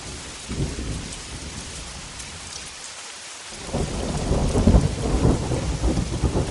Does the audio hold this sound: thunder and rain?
yes